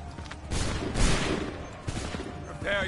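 A massed musket volley in Assassin's Creed III rings out as a loud, rolling crackle of overlapping shots, with a second burst following shortly after and faint voices underneath.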